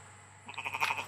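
A sheep bleats once in an orchard under a plum tree, a wavering, quavering call that begins softly and swells, heard fairly close over a low steady background hum.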